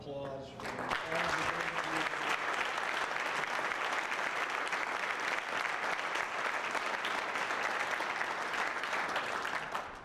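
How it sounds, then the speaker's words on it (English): Sustained audience applause fills a hall of fame ceremony, a dense steady wash of clapping that starts after a brief voice and holds at full strength to the end. "let's give one last round of applause for all the"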